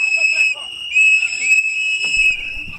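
Protesters standing in a street blow whistles, producing loud, sustained shrill blasts that overlap continuously, with voices shouting faintly underneath.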